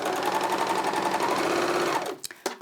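An Elna 864 overlocker runs steadily for about two seconds, its fast, even needle hum loud and close, then stops with a few short mechanical clicks.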